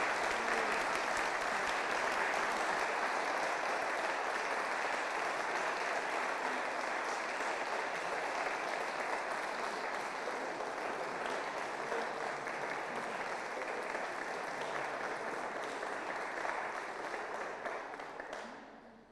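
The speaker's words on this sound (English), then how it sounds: "So we give June a really big clap." A congregation in Pershore Abbey applauds during a Nine Lessons and Carols service. The clapping is steady and even and lasts about nineteen seconds, thinning out near the end with no speech over it.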